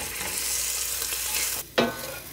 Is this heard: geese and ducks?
no